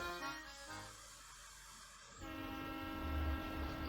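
Train running in the video game Professor Layton and the Diabolical Box, a steady rumble with a hiss that grows louder and heavier after a couple of seconds, with no voices.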